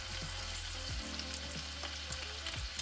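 Chicken adobo pieces sizzle and fry steadily in a pan, a continuous close crackle with a few louder pops and no talking.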